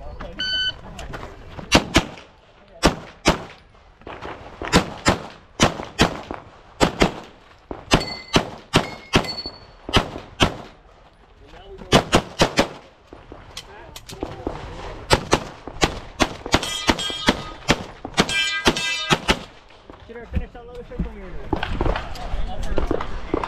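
Pistol shots ring out at a USPSA match on steel targets on a hot day, sharp cracks scattered in irregular bursts and singles, some with a metallic ring, while people talk nearby.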